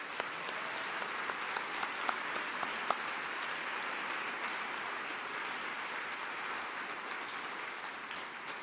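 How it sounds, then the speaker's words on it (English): Sustained applause from a large crowd at a California State University Fullerton convocation, a dense, even roar of clapping that holds steady throughout with a few sharper individual claps standing out, no voices over it. "Can we give everyone a round of applause,"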